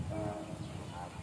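Low rumbling of a passenger train rolling past in the rain with a steady mechanical drone and tonal hum, fairly close and continuous.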